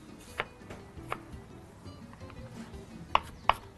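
A knife finely minces onion on a cutting board, with a few sharp, sparse chops and taps at irregular intervals over faint background noise, close and fairly quiet.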